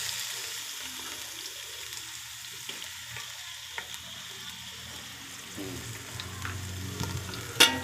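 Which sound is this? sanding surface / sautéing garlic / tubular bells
sautéing garlic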